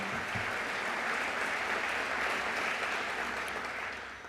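An audience at a mayor's State of the City address gives a sustained round of applause, an even wash of clapping that fades slightly at the close.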